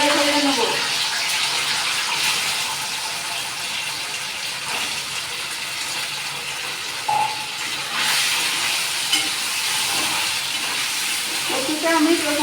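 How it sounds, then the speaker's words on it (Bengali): Taro pieces frying in hot oil for a curry with bean seeds, giving a steady close sizzle and hiss throughout with a few brief stirring clinks. "কচুটা আমি প্রথমে তেলে ভেজে নিচ্ছি"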